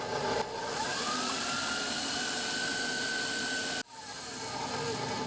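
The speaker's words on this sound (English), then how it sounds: "I don't want the mixer running while I'm talking" An electric mixer whips eggs and sweetener for a keto pumpkin cinnamon twist dough, a steady close whirring drone that cuts out briefly near the end and then starts up again, with no voices.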